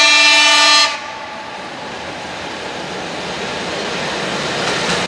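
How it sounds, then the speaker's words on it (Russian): A train horn blasts briefly, then a train rumbles steadily past on the railway tracks at Bakovka station, loud and close with no talk. "Количество поездов на этом направлении увеличилось."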